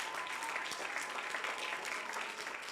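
Applause from a church congregation during a worship team gathering, steady clapping from many hands held at a moderate level throughout, without voices on top.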